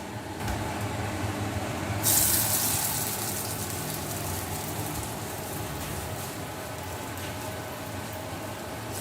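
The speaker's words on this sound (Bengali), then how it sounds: "তেলটা গরম হয়ে গেছে, এবার এক এক করে বড়াটা ভেজে নিচ্ছি।" Batter fritters (bora) dropped into hot oil, a broad steady hiss of frying that swells sharply for a moment and then settles into a constant close crackle, with no talking.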